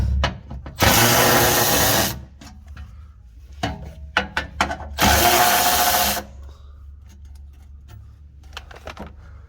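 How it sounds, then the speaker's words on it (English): A power tool zipping out 12 mm splash shield bolts under a 2015-2020 Toyota 4Runner: two loud, close whirring runs of about a second each, with clanks and handling knocks between and after, and no talk. "we're going to go ahead and take off the splash shield so we can get mostly all the oil out"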